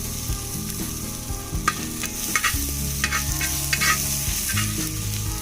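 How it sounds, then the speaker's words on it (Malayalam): Garlic and ginger, with cardamom and cloves, sauté in hot oil in a pan for a chicken stew, a close steady sizzle broken by frequent stirring scrapes and clinks. "വെളുത്തുള്ളി, ഇഞ്ചി ഇത് എന്നിട്ട് നല്ലപോലെ വഴറ്റി കൊടുക്കാം"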